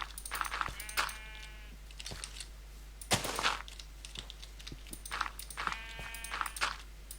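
Sheep in a video game bleat twice, one wavering call near the start and another near the end. Soft scattered clicks and taps fill the gaps between them.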